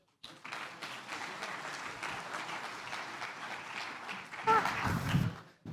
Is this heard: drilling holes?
no